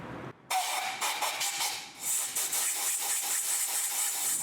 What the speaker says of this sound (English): next we're going to grab some compressed air and blow out any metal chips that are going to be in our way